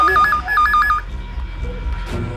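A telephone rings with a repeated electronic trill in two quick bursts, loud and close, then cuts off into a quieter room with a brief knock.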